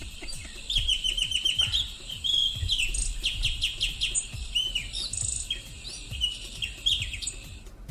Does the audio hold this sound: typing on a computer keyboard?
no